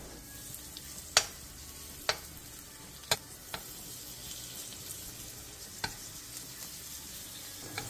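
Pancake batter frying over medium-low heat in an oiled pan, a steady soft sizzle running throughout with a few sharp clicks of a utensil against the pan scattered across it.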